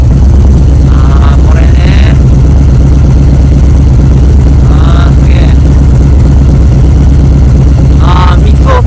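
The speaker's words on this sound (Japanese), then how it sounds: "いい音 だな。 このマフラーやと。" A Harley-Davidson Forty-Eight motorcycle with an aftermarket muffler idles loud and close, a steady deep low-pitched rumble running throughout, while people talk briefly over it.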